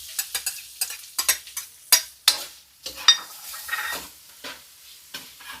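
Onions go into a hot pan and are stirred, giving a series of sharp scraping strokes and brief bursts of sizzle close by, with no talking.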